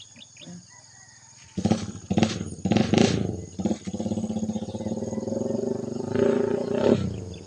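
Engines of motorcycles and tricycles rumble close by, revving and passing on a street, one loud pass after another with a brief lull between.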